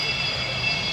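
Fixed-wing aircraft at an air fair at Biggin Hill, coming in to land on the runway, giving a steady broadband engine roar with high whine, continuous and fairly loud for the whole moment with no talk.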